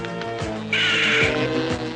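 A cartoon crow caws in three hoarse, rhythmic calls, loud and close, over a steady droning background that swells midway with a bright sustained tone.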